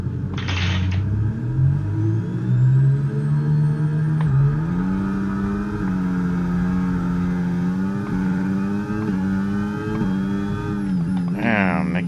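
Race cars start a Formula 1 race at Brazil in a racing video game, engines revving hard and rising in pitch through gear changes, loud and close, with a burst of other cars passing and voices talking over it.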